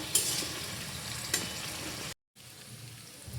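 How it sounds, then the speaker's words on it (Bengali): Flat beans fry with turmeric in a pan, giving a steady close hiss and sizzle with a couple of stirring scrapes, then a short silent gap before the sizzling resumes. "এবার হলুদটাকে মিশিয়ে সিমগুলোকে আমরা ভালো করে লাল লাল করে ভাজবো"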